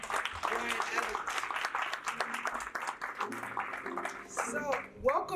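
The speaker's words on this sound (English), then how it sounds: "please give another round of applause for Taylor Hill and Brian Evans" Audience applause at a sold-out Sunday dinner event, scattered hand clapping mixed with voices and someone talking, moderately loud and uneven.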